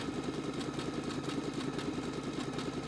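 An EverSewn Charlotte sewing machine runs steadily while sewing a decorative stitch on fabric, a continuous close mechanical whir with a fast, even rhythmic chatter throughout.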